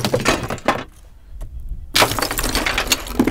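Block of ice packed with compressed air bursting and cracking apart, sharp brittle snaps and crackles close by, a quiet pause, then renewed loud fracturing noise.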